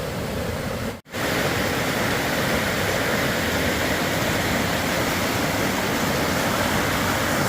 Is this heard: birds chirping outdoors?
no